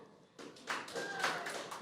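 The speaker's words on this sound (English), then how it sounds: "Clap if you're Asian." Scattered, uneven clapping from a few people in a stand-up comedy audience, starting thin and building slightly, loose and unsynchronized in the room.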